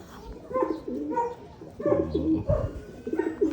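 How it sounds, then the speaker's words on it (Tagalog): Pigeons giving repeated soft, throaty coos in several close overlapping calls, outdoors at their release, with no talking. "Dito ko naman pakawalan sa kabila mga kalapatids."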